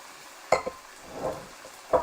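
Vegetables are stirred into a sizzling beef stir-fry in a pan, with a few sharp utensil clanks against the metal and a soft scraping shuffle between them over a quiet background.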